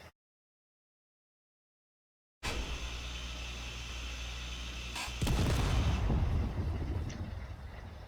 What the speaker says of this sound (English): Something exploded and I do not know what it was.